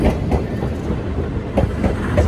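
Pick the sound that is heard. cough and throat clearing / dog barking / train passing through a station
train passing through a station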